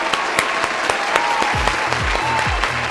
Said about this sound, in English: Let's stop and give Samsung a round of applause.